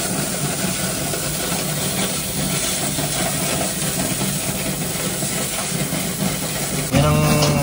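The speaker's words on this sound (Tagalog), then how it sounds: "So nandun yung mga makina niya na ginagamit niya sa paglilinis." Cleaning equipment machinery runs inside a work truck in Calgary, a loud steady hiss and engine drone that fills the whole stretch and surges briefly near the end.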